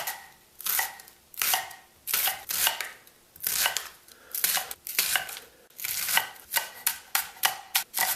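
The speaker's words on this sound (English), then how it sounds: "Peel off the brown, papery skin, and we're just going to cut it in slices." A knife cuts through an onion in a steady series of crisp slicing strokes on a board, close up with no talking.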